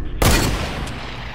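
Single sharp gunshot in Fortnite, a sudden loud close blast that decays quickly into a fading echo, with a faint click shortly after.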